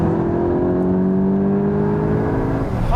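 A Honda Civic Type R or VW Golf GTI Clubsport hot hatch fitted with an Akrapovic exhaust accelerates hard, its engine note rising in a steady, loud, close drone that holds for a few seconds.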